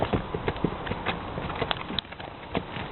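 Several small ponies, one a small grey pony, walk one behind another, their hooves clip-clopping in a steady uneven patter at moderate distance.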